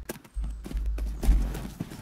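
Horse hooves clip-clopping in the Tales of Rein Ravine show jumping game, a run of quick, fairly close thuds over a deep low rumble, with a voice talking briefly.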